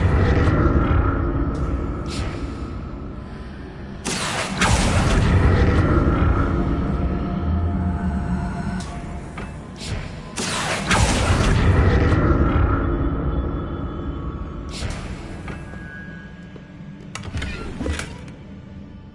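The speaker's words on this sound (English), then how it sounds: "What did that burst of magic do?" A burst of magic from a spell in Hogwarts Legacy: several separate whooshing, booming surges, each a sudden bright swell that sustains a few seconds and then fades, spaced apart with quieter resonant lulls between them.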